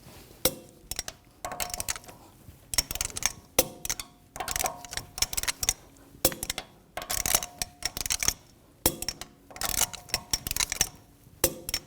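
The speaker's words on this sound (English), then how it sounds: "Now I'm going to torque the lug bolts to 90 foot-pounds in a cross pattern to tighten the wheel down evenly" Torque wrench tightening the wheel lug bolts on a 2010-2014 Volkswagen GTI in a cross pattern: repeated bursts of close ratcheting clicks, separated by short pauses, moderately quiet.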